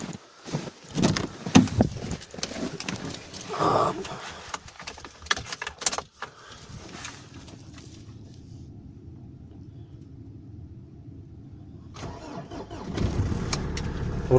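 A car engine cranks and catches at about 12 seconds, then settles into a loud, steady idle, after rustling, footsteps and handling noises near a village farm.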